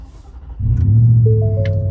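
A 2024 Ford F-150 Raptor R V8 engine cranks and catches, then settles into a deep, loud, smooth rumbling idle close by.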